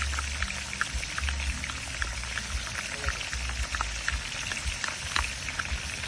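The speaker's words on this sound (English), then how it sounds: "Throw in my lovely ginger and garlic, freshly grounded one" Freshly ground ginger and garlic are thrown into frying meat, a loud, steady sizzle and crackle of hot oil filling the whole stretch close up, with no pause.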